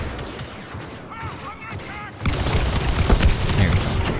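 A vehicle's cannon firing in Star Wars Battlefront 2, a loud rolling barrage of booming shots that erupts after quieter sci-fi whirs and chirps and continues steadily to the end.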